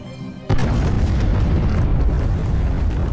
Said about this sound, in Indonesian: kemudian meledakkan tempat itu.